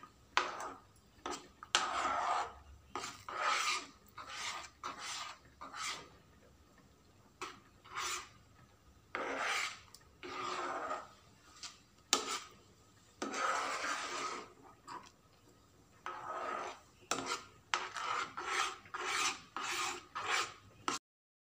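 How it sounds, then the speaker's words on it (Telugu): Rava kesari, a semolina halwa, being stirred in a pan, with repeated rasping scrapes of the spoon through the thick mixture in irregular bursts separated by short pauses, close and fairly clear. "ఇప్పుడు దీన్ని మనం నెమ్మదిగా కలుపుకుంటూ రవ్వ దగ్గరకు పడేదాకా కలుపుకుందాము"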